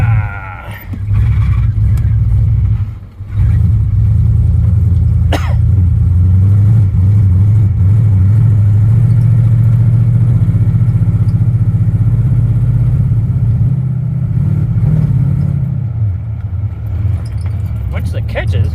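A 1974 Chevy engine converted to Megasquirt TBI fuel injection runs loud and close, a steady low rumble that rises and falls in revs for nearly the whole stretch, with a voice talking over it.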